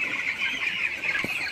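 A flock of chickens on a poultry farm, busy drinking water, makes a steady, close chorus of soft clucks and chirps with no talking.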